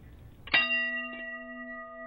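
A bell is struck once with a sharp metallic clang, then rings on with a clear, steady sustained tone that fades only slightly over the following second and a half.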